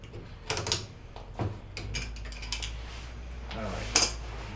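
Hose clamps being loosened on a Kenmore top-load washer, giving faint scattered clicks and metallic ratcheting scrapes with a low steady hum beneath.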